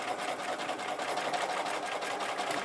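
A sewing machine stitches thread in a quilting thread-scribbling demo, running at a fast, even, continuous rattle up close with no pauses and no talk.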